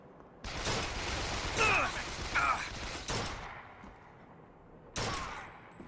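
Gunfire in BioShock Infinite: loud sustained bursts of automatic shooting, broken by brief pauses, with mechanical clanks between volleys and a final burst near the end.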